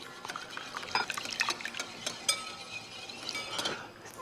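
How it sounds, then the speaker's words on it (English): Milk is whisked by hand into a savory crepe batter, giving a quiet, continuous liquid swish with rapid clinks of a whisk against a bowl, close but faint. "Then I'm going to add in 1 cup of milk and just whisk that in slowly."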